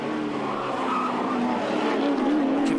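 Historic touring and muscle race cars at Hampton Downs circuit, a loud close engine roar with rising and falling revs and tire squeal as cars power along the track.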